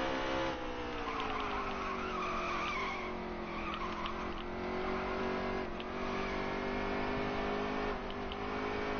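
A race car in a league race video game, the Ticket Guardian 500, skids with sustained tire squeal over a steady, loud engine drone, with brief louder scrubbing bursts throughout and no talking.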